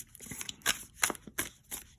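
Thick tarot cards are shuffled in quick riffling bursts, about five crisp papery flurries spaced across the moment, close and moderately quiet with no talk.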